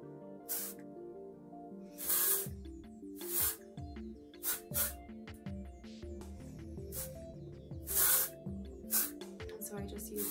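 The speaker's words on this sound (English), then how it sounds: "it's like a textured spray. It's like a matte finish hairspray." Short hissing bursts of matte textured hairspray, several in irregular succession, over a background of steady music and some talk.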